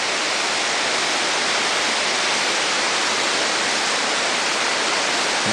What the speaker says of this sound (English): the creek below us is not full yet, but it will be filling up pretty soon